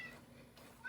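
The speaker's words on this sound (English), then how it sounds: "That's my cat wanting attention." A house cat meows for attention, two short tonal calls, one at the start and one at the end, faint and close against a quiet indoor background.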